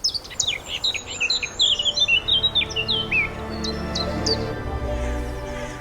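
Birds singing in spring woodland, rapid high chirps and whistled phrases close by, with a steady low rumble of background noise underneath.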